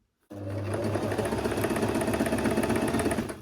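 A sewing machine stitches around a garment's neckline facing, starting abruptly and then running at a steady, rapid, close mechanical chatter with no pauses or talking.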